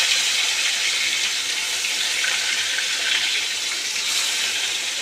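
Prawns frying in hot oil, a loud, dense, steady hiss and crackle that runs without a break from start to finish, heard close up and on its own.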